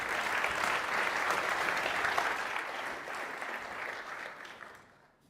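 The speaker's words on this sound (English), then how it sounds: "you may give them a warm applause," Warm applause from the audience at an offshore wind energy workshop in the Netherlands, a steady, even roar of many hands that holds for several seconds and then tapers off at the end.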